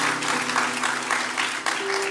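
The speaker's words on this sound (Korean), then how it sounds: "우리를 전도자로 불러주신 하나님께 우리 영광의 박수 올려드리겠습니다." A church congregation applauds together, a sustained even patter of many hands filling the sanctuary at moderate volume, with a faint sustained tone entering near the end.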